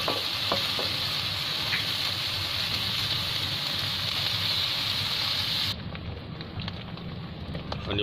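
Desi garlic cooking in oil over a low flame crackles with a dense, steady sizzle close up, then drops suddenly to a quieter, duller frying sound for the last couple of seconds.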